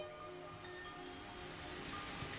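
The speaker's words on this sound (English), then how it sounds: "All of a sudden, big raindrops hit the roof of the car and I recovered my senses. It was still raining hard." Heavy rain drums on the roof of a car in a dense, steady patter that stays fairly quiet and even throughout.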